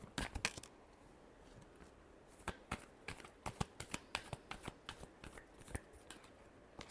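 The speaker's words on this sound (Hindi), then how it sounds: "Last shuffle." Tarot cards being shuffled by hand, a run of crisp riffling snaps and flutters in quick irregular bursts, close and fairly quiet, with no talking.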